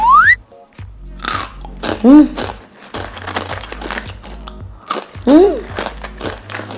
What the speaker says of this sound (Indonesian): Nah, ini ada yang makaroni pedas, kita cobain.